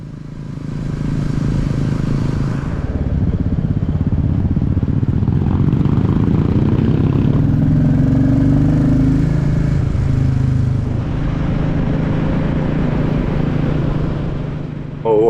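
Royal Enfield motorcycles, one a Hunter with an Indian aftermarket exhaust, rumble steadily and loudly up close while riding, the throbbing engine note rising and falling through the run.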